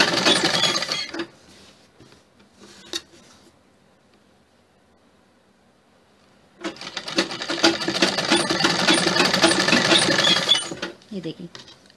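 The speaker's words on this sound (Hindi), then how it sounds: "ये देखिए कपड़ा हमने इसके साथ सिल दिया है।" Sewing machine stitching fabric for a Chinese-collar sherwani suit, a loud, close, steady mechanical chatter running for several seconds at the end, with speech and quieter handling sounds before it.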